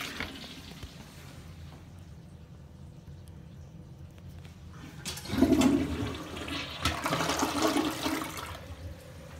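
A toilet in a gas station restroom starts flushing on its own partway through, a loud rushing and gurgling surge after a quiet room hum, then continuing to churn and drain.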